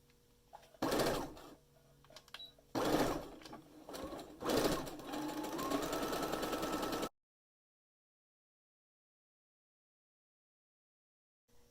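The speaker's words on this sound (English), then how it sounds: "I'm going to sew the shoulder seam with 1/2 inch seam allowance, and make sure you back stitch before and after you sew." A sewing machine stitches a shoulder seam with back stitching, running in three close, loud bursts of rapid needle clatter that grow longer, the last lasting a couple of seconds, then stopping into silence.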